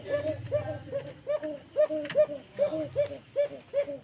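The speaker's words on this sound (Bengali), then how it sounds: "দেখবেন ওর বুলি কেমন ডাকে" A Bashi Koka breed pigeon coos close by, repeating rhythmic throaty, hooting calls about every third of a second in a steady series.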